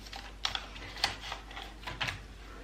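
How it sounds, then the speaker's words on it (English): A bone folder gently scoring paper for a craft ephemera insert, heard as a few short, crisp scraping strokes spaced about half a second apart, close up and fairly quiet with no talking. "I've got a bone folder and we'll just try and gently score that because I don't want it to rip"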